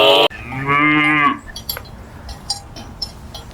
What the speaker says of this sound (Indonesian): ada suara sapi teman-teman